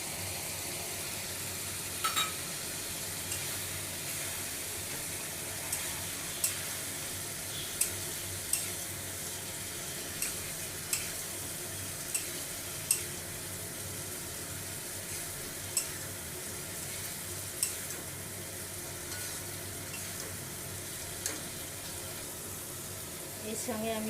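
A spice paste of ground cashew and poppy seed fries in a pan for a paneer curry, a soft steady sizzle broken by a dozen or so sharp spoon scrapes and taps at uneven intervals.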